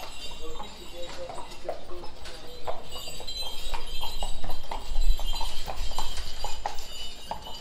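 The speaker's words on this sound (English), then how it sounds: "Oh, the horses." Horse hooves clip-clop steadily on a street in Portugal, a run of sharp, evenly spaced knocks close by, with people chatting over the top.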